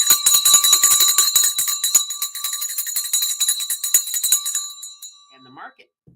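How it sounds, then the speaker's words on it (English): The stock market's closing bell rings loud and close in a rapid metallic clatter for about five seconds, then stops abruptly, leaving a brief faint sound at the end. "And the market is closed. The bell is done."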